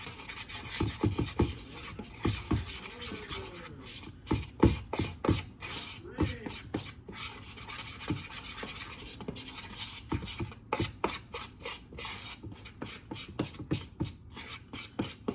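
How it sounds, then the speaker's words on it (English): Powdered sugar frosting is stirred by hand in a bowl, giving steady, rhythmic scraping and rasping strokes close by that continue with brief pauses. "you're going to take that and mix it up until you get kind of like a frosting consistency"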